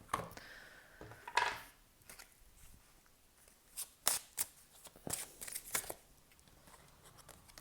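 Tarot cards are shuffled by hand at close range, giving soft, quiet riffling and flicking bursts scattered irregularly with pauses between them.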